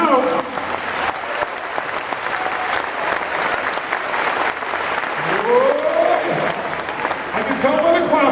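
A large audience at a Tony Robbins motivational talk applauds continuously, a dense steady wash of clapping with cheers and whoops rising near the end, loud and sustained throughout.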